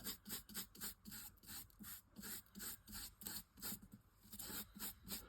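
Gilding on painted Christmas lettering being tamped down and burnished, a close, quiet rubbing and rasping in short repeated strokes with a steady back-and-forth rhythm, heard alone.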